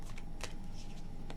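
Tarot cards being shuffled in a reading: a close, steady riffling rustle with a few sharper snaps of cards, short and continuous, with no voices.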